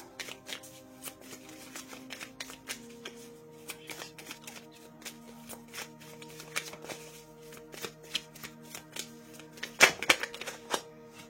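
Oracle cards shuffled by hand during a weekly energy reading, a steady run of crisp papery riffles and taps close up, ending in a sharper slap as one card jumps out, with soft music underneath.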